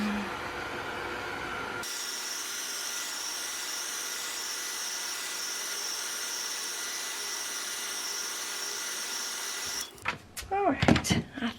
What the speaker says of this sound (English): And I'm going to dry it.